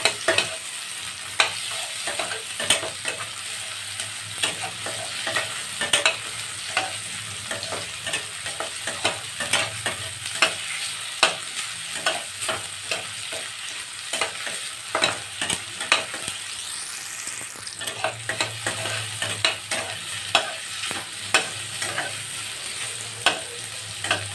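Ingredients for sinigang na bangus sautéing in a hot pan, a steady close sizzle and fry with frequent sharp clicks and scrapes of stirring throughout, no voices.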